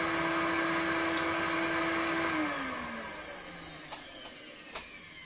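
An Electrolux 504 vacuum cleaner with a broken belt and a brush roll that isn't turning runs with suction. A steady motor whine winds down in pitch partway through, followed by a couple of sharp clicks.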